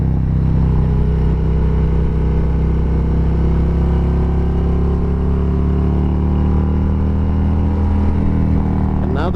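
A new Harley-Davidson motorcycle rides the Cherohala Skyway, its engine droning loud and steady with a continuous low rumble and wind noise, the pitch rising slightly as the rider opens the throttle.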